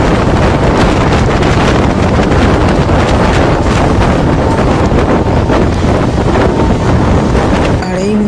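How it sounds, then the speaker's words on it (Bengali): The Sairang–Kolkata Express rushes at speed through a station, a loud, constant roar of wind and rolling noise close to the microphone with no break, apparently recorded from on board. "আমাদের ট্রেন এখন স্কিপ করছে চাকদা রেলওয়ে স্টেশন, বেশ ভালো স্পিডের সাথেই স্কিপ করছে চাকদা"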